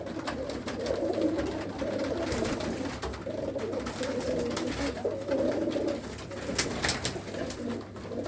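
Old red Cheena pigeons coo continuously in a loft, many birds overlapping in soft, throaty rolling calls that swell and fade, with a few sharp clicks and wing flutters and no talking.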